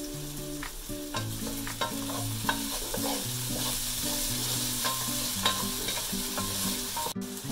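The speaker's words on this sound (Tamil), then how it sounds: "இது கொஞ்ச நேரம் நல்லா ஃப்ரை ஆகட்டும்." Cubed potatoes frying in oil in a pan, a steady close sizzle with repeated scraping stirs of a spoon throughout, no voices.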